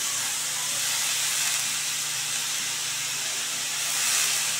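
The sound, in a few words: cabbage added to a hot pan, sizzling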